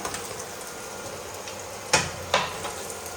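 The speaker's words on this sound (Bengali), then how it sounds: "আলুটাকে হালকা করে ভেজে দিলাম।" Potatoes frying lightly in oil hiss with a steady, even sizzle, broken by two sharp clacks of a utensil against the pan near the end.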